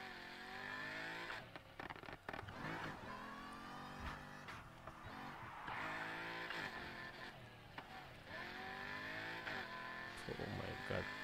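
A Chevrolet Corvette Z06 in the video game Need for Speed Heat accelerates hard, its engine note climbing steadily through repeated upshifts. The loud, continuous revving runs the whole stretch with little pause.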